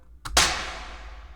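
A single sharp clap sample in FL Studio, loud and dry with a crisp snap, preceded by a brief softer hit and trailing off quickly.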